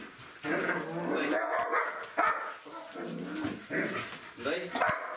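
A dachshund barks and whimpers in short bursts during a training session with a toy, close to the microphone, with a trainer's voice giving commands throughout.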